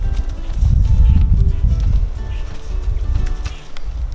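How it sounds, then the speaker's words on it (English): A horse walks into its stall at feeding time with a rider on its back, its hoofbeats dull and muffled within a steady low rumble close by. "every time, it's like clockwork, the horse goes right to his stall."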